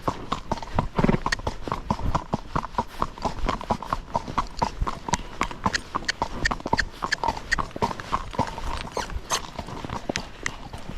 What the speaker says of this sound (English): So he just jumped forward and he just foxtrotted a little bit.